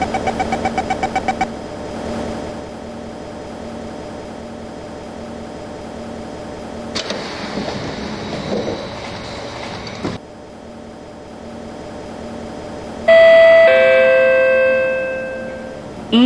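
A train in the OpenBVE simulator on the C151 Harbourvale Line hums steadily at a station, then a clunk and mechanical rumble as the doors close, followed by a loud multi-tone chime near the end.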